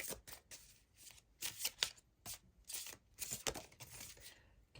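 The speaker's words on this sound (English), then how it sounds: "I am using the Radiant Wilds Tarot cards." Radiant Wilds tarot cards are shuffled in repeated quick papery riffles and slides, close and fairly quiet, with short pauses between bursts.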